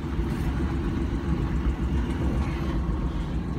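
A vehicle engine labors in two-wheel drive up a snowy hill, a steady low rumble droning close by without any talking.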